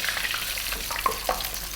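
Thin battered fish, just flipped, sizzles in shallow oil in a frying pan, a steady close crackling hiss with a few small pops.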